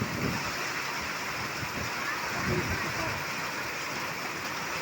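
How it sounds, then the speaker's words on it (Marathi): Heavy early-monsoon rain pouring at Malegaon MIDC, a steady, dense hiss of falling water with no breaks, moderately loud and continuous. "मृग नक्षत्राचा पाऊस भरपूर पडत आहे पडताना दिसत आहे"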